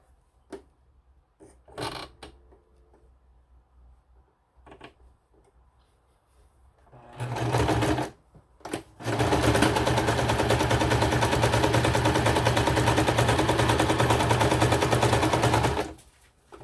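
A basic Gnome sewing machine stitches a zigzag: a few short ticking starts, then a sustained loud, rapid mechanical run for several seconds that stops abruptly.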